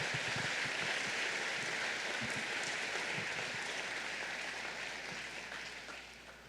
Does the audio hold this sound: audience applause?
yes